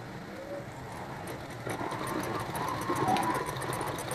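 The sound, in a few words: Salika sewing machine stitching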